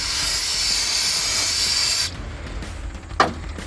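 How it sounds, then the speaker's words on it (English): Brake cleaner sprays down the carburetor of a 1981 Ford F-150 in a steady, close, loud hiss lasting about two seconds, followed by quieter rustling and one short burst. "I'm gonna throw a little bit of brake clean down the carb"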